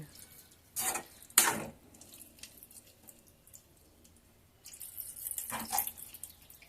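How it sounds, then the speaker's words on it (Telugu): A glass of water is poured into potato curry cooking in a pan, giving two short splashing pours early on and a longer wet pour near the end, fairly close and with no talking. "ఇప్పుడు ఒక గ్లాస్ నీళ్ళు ఒక గ్లాస్ నీళ్ళు వేసి ఒకసారి బాగా కలుపుకొని మూత పెట్టి కాసేపు ఉడికించుకోవాలి"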